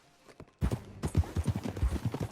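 Horse hooves clip-clop on the ground in Red Dead Redemption 2, a quiet opening and then a steady run of close, distinct hoofbeats with no voices.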